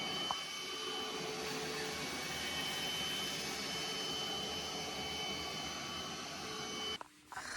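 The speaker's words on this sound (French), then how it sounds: "je parlais du nouvel aspirateur" A new vacuum cleaner running inside an apartment, a steady close whooshing roar with a whining motor tone, continuous for several seconds before briefly cutting out near the end.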